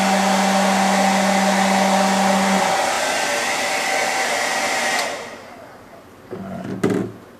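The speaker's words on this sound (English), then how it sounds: "You can also just set the hair dryer down and with the bottom of your finger as well while you hold it into full extension so everything is nice and dry." A handheld hair dryer blows steadily to dry a finger after splint removal. A loud, even whoosh with a low hum runs for about five seconds, then cuts off, followed by faint handling clunks.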